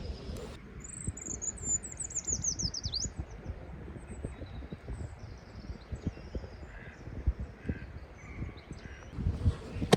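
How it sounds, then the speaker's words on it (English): A treecreeper in Charnwood Forest gives a thin, high, descending trill early on, followed by a few fainter chirps over quiet outdoor rustling. "I think that was a tree creeper anyway."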